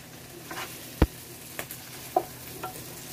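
Steamed cauliflower being stir-fried in a pan gives a soft, steady sizzle, broken by a few scattered clicks and knocks of utensil on pan, quiet and close.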